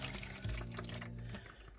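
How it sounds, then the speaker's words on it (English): Pineapple juice dripping and trickling from a can of crushed pineapple set in a drainer, a soft, close, steady wet patter with no talk over it. "a can of crushed pineapple, which I am going to put into a drainer right here and let it drip drain"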